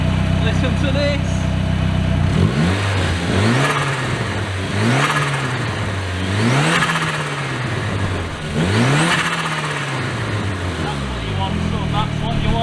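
A close, loud 250bhp Corsa B with a B204 engine sits idling, then is revved hard several times in rising and falling bursts before returning to a steady idle, with voices talking over it.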